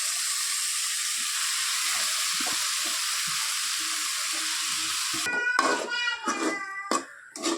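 A potato and chicken mixture stirred into masala frying in a pan for chicken cutlets: a steady loud sizzle throughout, then scraping stir strokes and clatter near the end, with no talk.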